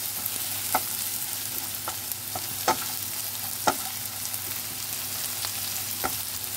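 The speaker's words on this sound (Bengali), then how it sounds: "রসুন আর দেবো যে কুচিয়ে রেখেছিলাম কাঁচা লঙ্কাগুলো, সেগুলো দিয়ে দিলাম এর সঙ্গে, একসঙ্গে ফ্রাই করে নেব।" Chopped garlic and green chillies frying with onions in a pan, a steady sizzle punctuated by several sharp spatula clicks and stirring knocks at irregular intervals.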